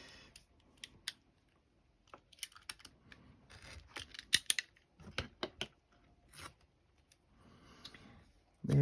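Adhesive tape being pulled from a roll, heard as quiet, intermittent ripping and crackling bursts with small clicks and handling noises in between, close up in a quiet room.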